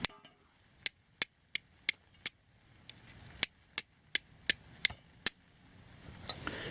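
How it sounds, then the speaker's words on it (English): A steel striker skims against a piece of flint in about a dozen sharp, close, crisp clicks at irregular intervals, each a distinct metallic tick over quiet background. "you take your striker and hit the flint, and you just want to skim it"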